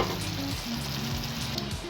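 Onion and poppy-seed curry (peyaj posto) fries gently with sugar stirred in, a soft steady sizzle under a few quiet stirring strokes, fairly faint and close.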